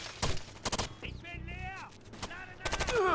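Short bursts of gunfire in Rainbow Six Vegas 2 sound at moderate level, with two quick volleys early and another near the end, interleaved with talking voices.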